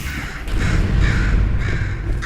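Crow-like cawing from a bird in the video game Portal 2, a run of harsh caws repeating over a low rumbling game ambience, fairly loud and close with no talk.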